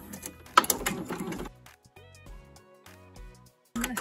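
An embroidery machine stitches an in-the-hoop star wand with red fabric. Short bursts of rapid mechanical stitching are separated by a quiet stretch with soft electronic beeps and clicks before the stitching starts again.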